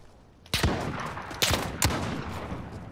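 Shotgun blasts in a video game gunfight tournament: three sharp, loud booms with a short echoing tail, the first alone and the next two close together, over a low background.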